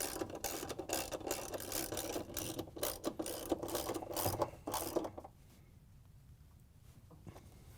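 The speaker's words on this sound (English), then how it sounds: "Now that we have all the bolts tightened down" Bolts being tightened down on a Whirlpool/KitchenAid/Maytag washer motor shield: a run of quick ratcheting clicks for about five seconds, then it stops and only a low room hum remains.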